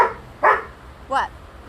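A pet dog barks close by with a couple of short, sharp yips spaced apart, while the room is otherwise quiet.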